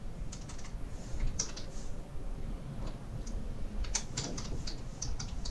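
A commit message is typed on a computer keyboard as quick, uneven clusters of crisp key clicks with short pauses between bursts, close and clear over a low background hum.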